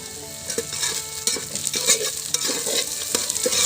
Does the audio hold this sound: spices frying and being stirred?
yes